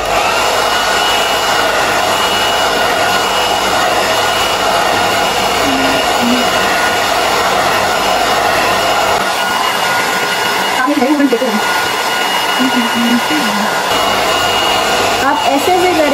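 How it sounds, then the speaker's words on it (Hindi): A hair dryer blows steadily through a long blow-dry of hair, a loud constant whirring roar that shifts slightly as the dryer is moved, with a few faint voice-like sounds in the background. "जब आप अपने ड्रायर को ऐसे ऐसे करेंगे ना तो आपके बाल सीधे भी होते जाएंगे"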